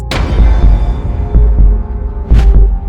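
Deep, booming heartbeat sound effect, loud and resonant, repeating in slow pairs with a low rumble underneath.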